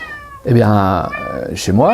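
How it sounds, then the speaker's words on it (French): A domestic cat meows loudly and close up in a drawn-out, wavering cry, then begins another meow, with a voice speaking briefly at the start. "Voilà, parfois en miaulant."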